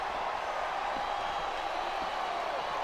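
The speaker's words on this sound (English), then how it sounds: "I love hearing a crowd come alive" Steady, dense roar of an arena crowd cheering in the wrestling video game SvR 2008 during an ECW Television Championship match. The sound is continuous and fairly distant, with no clear peaks.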